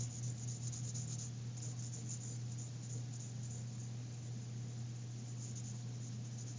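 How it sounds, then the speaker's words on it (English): Pencil lightly sketching block letters on paper, a soft continuous scratchy rubbing heard close up and alone over a faint steady hum. "So if I just lightly sketch that in"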